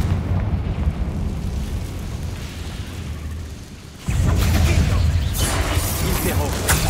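Confringo fire spell blasts in Hogwarts Legacy, a sudden loud burst erupting midway after a quieter stretch of rumbling game ambience, then sustained crackling roar.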